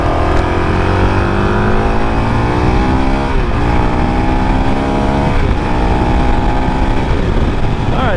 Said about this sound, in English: She gets up 60 miles an hour really quick, even short shifting.